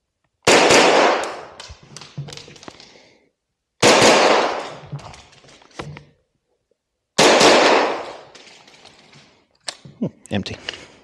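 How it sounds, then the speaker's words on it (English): Firearm shots ring out at a practical shooting range as rounds go into practice targets, three loud close clusters each opening with a sharp blast and trailing rapid follow-up shots and clatter, with pauses between. "I'm gonna put a couple of rounds through on the side"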